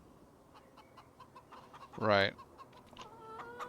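Chickens cluck softly in the Farming Simulator 25 farm coop. One louder, squawking call rises in the middle over a bed of faint clucks, and someone briefly speaks.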